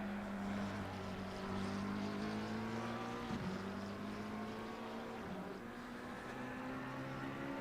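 A McLaren GT3 race car engine drones in a racing video game on a wet Oulton Park circuit. It is a steady, sustained engine tone that dips briefly in pitch a couple of times, with no talk over it.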